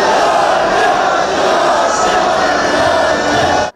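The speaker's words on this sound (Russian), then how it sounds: "игра пройдет под оглушительный гул болельщиков «Водника»" Loud, roaring crowd noise of Vodnik bandy fans packing the stands at a Russian championship final stadium, a sustained wall of cheering and chanting that drops off abruptly at the end.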